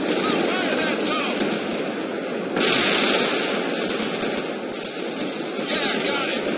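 Gunfire in the World in Conflict video game, a steady dense wash of rattling shots and distant battle noise with a louder swell midway, continuous and evenly loud throughout.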